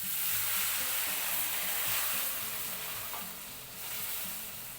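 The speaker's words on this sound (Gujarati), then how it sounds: "તો તેની અંદર આપણે પાણી ઉમેરી દઈશું" Water hits a hot pan of roasted rajgira flour for halwa and sizzles, a steady hissing fry that rises, eases, then swells again, close and alone.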